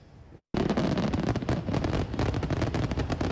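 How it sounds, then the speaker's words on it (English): Fireworks burst over the Empire State Building for an Independence Day celebration, a dense, loud barrage of crackling pops and booms packed closely together after a brief silence. "the fireworks displays from the Empire State Building"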